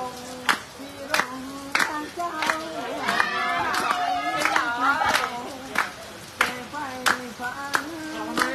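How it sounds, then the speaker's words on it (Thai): Children behind a community kitchen in Nan clap steadily in time with a volunteer singing a song, sharp evenly spaced claps at a moderate tempo under the sung melody and nearby voices. "น้องๆปรบมือตามจังหวะน่ารักมากเลย"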